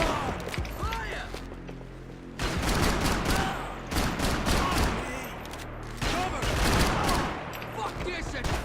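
Heavy gunfire from Max Payne 3 comes in loud, dense volleys that break off and resume several times, with shouted voices mixed into the din.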